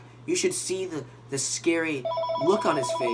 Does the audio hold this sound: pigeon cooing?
no